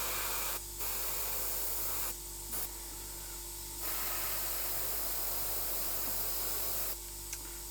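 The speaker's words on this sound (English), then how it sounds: "Usually I check the spray on my on the back of my hand before I go to the figure or bust." A Gaahleri fine-detail airbrush sprays in short bursts, a loud close steady hiss that starts and stops several times with quiet gaps between.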